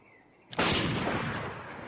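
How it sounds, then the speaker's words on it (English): An explosion goes off in the zombie survival game Project Zomboid, one sudden loud burst that rolls straight into a long, heavy rumble and slowly fades as it lingers. "Oh, I thought you were talking about the explosion."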